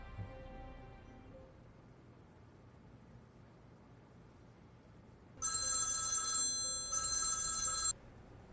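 A telephone rings twice in quick succession after a long quiet stretch, each ring a bright electronic trill, fairly loud and with no one speaking.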